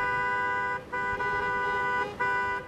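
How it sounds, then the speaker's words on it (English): Car horns at a drive-in high school graduation held outdoors during the pandemic, sounding three sustained honks in a row with short breaks between them, loud and steady, with no talking. "Honking horns replaced the sound of applause."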